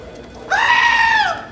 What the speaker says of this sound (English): he hired a security goat to protect the data shed